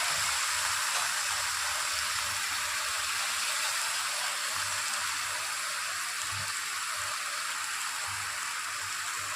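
Water is poured into a cooking pan of pumpkin and Malabar spinach in a Bengali kitchen, making a steady, close gushing splash that lasts the whole stretch without pause.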